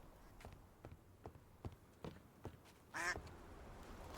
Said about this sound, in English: That duck is just chilling here.